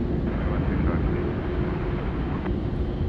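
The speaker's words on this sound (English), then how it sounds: "Qantas 20 there coming in from Manila this morning." A Qantas airliner arriving from Manila comes in to land at Sydney Airport with a loud, steady, rumbling jet roar that holds at an even level throughout, dense in low tones.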